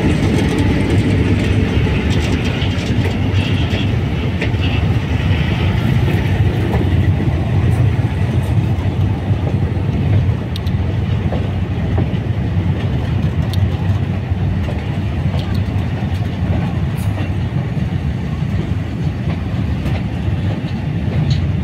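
A DF4B diesel locomotive hauls flat wagons past on an Indonesian railway, a steady, loud rumble of engine and rolling wheels that holds for over twenty seconds without any break.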